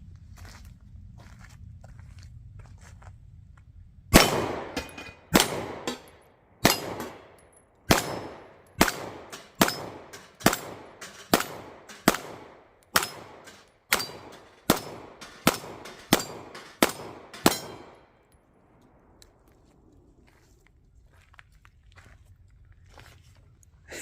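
A Stoeger STR-9 9mm pistol fires Winchester 147-grain hollow point rounds outdoors, about fifteen sharp, loud reports in a quick, fairly even string of shots, then quiet.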